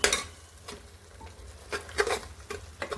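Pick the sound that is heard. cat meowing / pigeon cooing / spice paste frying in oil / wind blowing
spice paste frying in oil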